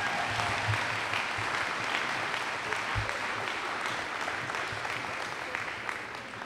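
An audience at a high school closing ceremony gives steady, sustained applause for a singer after the national anthem, a broad even roar of clapping that fades slightly toward the end.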